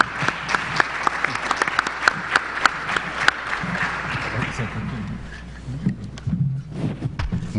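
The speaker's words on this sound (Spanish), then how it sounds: "Un aplauso a los..." Audience applause for conference panelists at a LACNIC session, a dense clapping crowd filling the room for about five seconds before thinning into scattered claps and murmurs.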